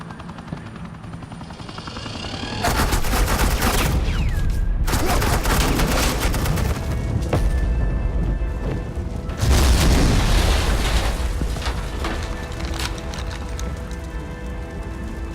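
Rapid suppressing gunfire in the Batman: The Enemy Within game, a dense roaring burst of shots from about 2.7 seconds, with a second louder volley near 9.5 seconds over steady background noise.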